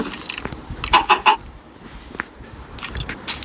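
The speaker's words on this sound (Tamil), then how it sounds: "ரெண்டு கோழி நமக்கு போச்சு." Chickens clucking in Minecraft, several short bursts of bird calls and clucks scattered across the moment, fairly close and clear against a quiet background.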